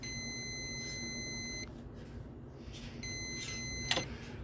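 A multimeter's diode-test indicator beeps in two steady high-pitched tones, one long and one shorter after a brief pause, over a faint background hum while testing a 2003–2004 Ford 6.0 ICP sensor harness.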